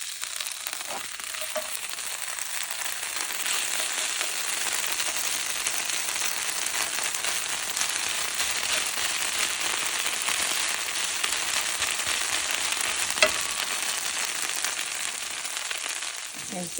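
Tater tots and onions fry together in a pan, a steady loud sizzle and crackle throughout with occasional stirring scrapes and a brief clink.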